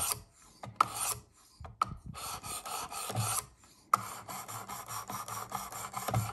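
A knife is sharpened on the stone of a Work Sharp Precision sharpener in a series of quiet, close rasping strokes with short pauses between them.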